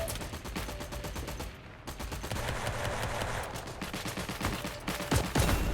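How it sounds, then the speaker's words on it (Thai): Enemy gunfire in the war video game Heroes & Generals crackles in rapid bursts, dense automatic shots rattling almost continuously with brief gaps, loud and close with no speech over it. "เออศัตรูนี่ยิงแม่นมากเลยเนี่ย โดนทุกนัดเลย"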